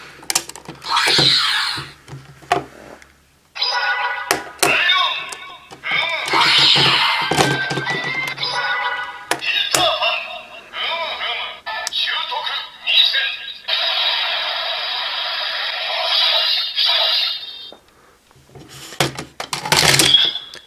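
A DX Peter Fantasista Wonder Ride Book toy from Kamen Rider Saber plays its scanning attack sound: loud electronic bursts, music and voice effects running nearly continuously for about twenty seconds after a brief pause, ending in a sharp final blast.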